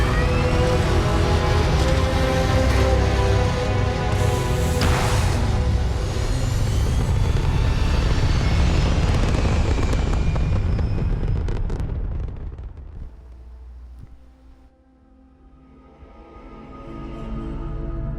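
Spaceship in the video game Starfield lifting off toward orbit, a loud sustained roaring rumble that fades and thins out near the end, then begins to build again.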